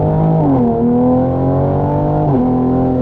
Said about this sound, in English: I could not deny that little piece of acceleration for him